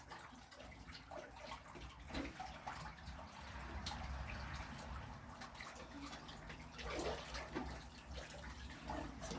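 A pump pushes water through hoses down into a garden pool pond, heard as steady close splashing and trickling with occasional louder gushes and drips, no talking.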